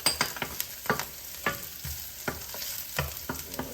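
Ginger and garlic frying in hot cooking oil, a steady sizzle broken by repeated clicking stirs and scrapes of a utensil in the pan, close and fairly quiet.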